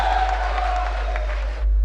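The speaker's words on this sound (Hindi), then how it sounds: "जोरदार तालियां बजाएंगे हिमांशी बाबरा" An audience at a mushaira poetry gathering in Malegaon applauds and cheers for a poet, a steady dense wash of clapping heard from a distance that cuts off abruptly near the end.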